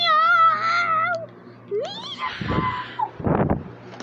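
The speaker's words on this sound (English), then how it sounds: "kitty kitty meow meow" A cat meows in several drawn-out, wavering cries close to the microphone, then rougher yowls follow with gaps between them, over a faint steady hum.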